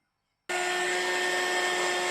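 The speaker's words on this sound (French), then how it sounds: "je vais sécher ça avec mon heat gun" A heat gun drying slow-drying Versafine ink stamped on a handmade shaker card switches on abruptly, then holds a steady, loud, whirring blast with a constant tone and no talk.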